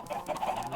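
Brief Minecraft chicken clucking, a quick cluster of close clucks running together with no speech.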